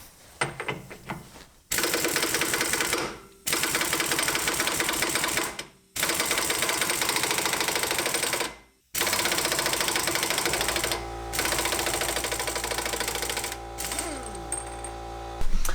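Air impact wrench rattling in long, loud hammering bursts while removing an Evo 9 rear hub, with short pauses between runs and a softer final stretch, close to the work.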